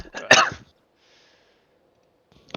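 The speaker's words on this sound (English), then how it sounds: "Dude, I had to cough, man." A person gives one sharp, harsh cough up close, followed by near silence and a faint breath at the end.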